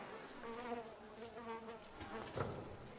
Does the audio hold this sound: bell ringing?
no